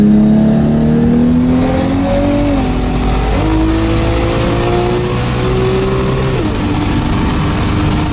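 A 1.5JZ engine in a 1200-horsepower widebody FRS build running 50 psi of boost revs loudly and continuously nearby, its pitch climbing and dropping through several rises over eight seconds with a harsh, raspy high whine layered on top.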